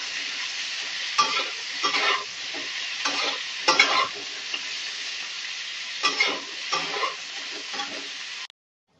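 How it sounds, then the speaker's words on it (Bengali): Cauliflower pieces fry in a pan with a continuous close sizzle, punctuated by bursts of spatula stirring and scraping at irregular intervals. "ভালো করে ভেজে নেবো ফুলকপিগুলো।"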